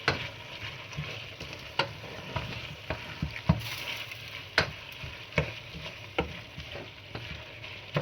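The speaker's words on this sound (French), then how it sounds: "On va laisser mijoter comme ça 5 minutes" Biteku teku greens in a vegetable sauce simmer in a pan over lowered heat, making a continuous close bubbling sizzle punctuated by regular soft pops and taps.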